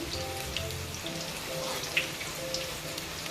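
Cabbage pakodi deep-frying in oil, a dense steady crackling sizzle with scattered pops, close and continuous without speech.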